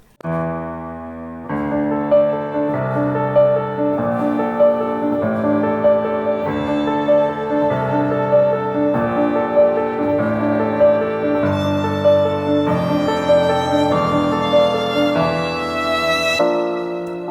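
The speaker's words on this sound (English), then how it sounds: "So I added 2 layers. One is the solo violin and the other is a string ensemble." Solo violin layered over a string ensemble plays a sustained, legato melody in a song, rich held chords changing every second or two, steady and fairly loud throughout with no voices.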